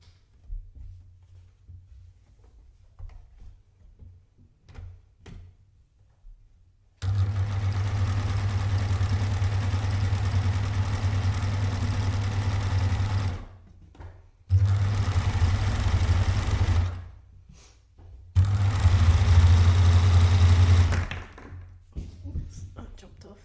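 A Babylock Euphoria coverstitch machine sewing shirring at a long stitch length: a loud steady whirring motor runs in three sustained bursts with short pauses between, after a quiet stretch of faint handling clicks.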